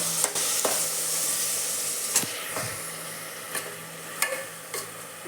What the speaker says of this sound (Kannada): ಈಗ ಒಂದು ಸ್ವಲ್ಪ ಮಸಾಲೆ ಹಾಕ್ಬಿಟ್ಟೆ ನೋಡ್ರಿ ಚೆನ್ನಾಗಿ ಫ್ರೈ ಮಾಡೋಣ